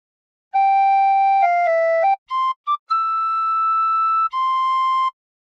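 Tin whistle playing a phrase of the Battle Hymn of the Republic: a clear, pure tone holding long notes, then a few quick short notes and two more sustained ones, played alone and up close.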